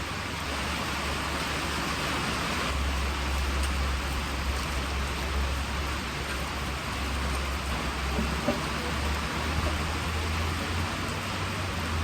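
Steady, dense hiss of rain falling continuously in southern Indiana, broad and even throughout with no voices.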